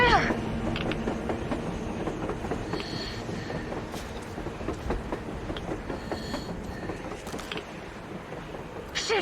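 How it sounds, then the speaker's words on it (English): A train rolls along rails on the surface in the video game Metro Exodus, a dense continuous rumble with rhythmic clacking and metallic rattles, loud and close throughout. "A train! A damn train on the surface!"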